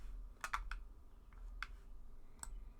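Mouse clicks while downloading an Epson XP-15000 printer driver package: a few sharp, close clicks in two quick pairs, then two more single clicks spaced over the next two seconds, over a quiet room background.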